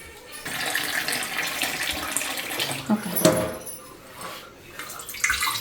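Water splashes and gurgles as about two glasses are poured into a cooking pot nearby, with a brief louder gush midway.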